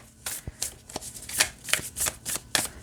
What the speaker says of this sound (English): it shuffles great this way too